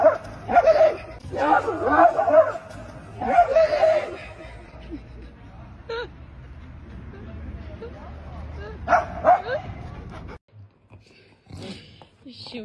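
A dog gives a series of high yips, barks and whimpering whines in short bursts, fairly close, with a stretch of quieter room noise between the outbursts.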